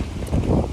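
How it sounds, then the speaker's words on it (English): Strong wind buffets the microphone with a low, rumbling roar, loud and gusty throughout a brief moment. "It's really windy"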